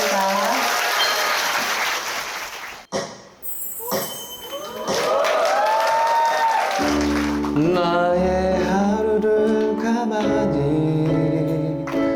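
A studio audience at a celebrity fan meeting bursts into loud, dense applause for a few seconds, which breaks off before a song's musical accompaniment starts and carries on steadily.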